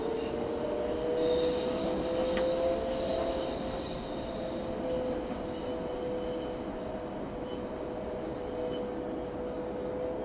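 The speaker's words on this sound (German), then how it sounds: "Ich habe wieder einen anderen Zug gehört." A video-game Berlin S-Bahn train on the S25 line in Train Simulator Classic rumbles past steadily with a high, sustained wheel squeal over a dense low roar; no voices.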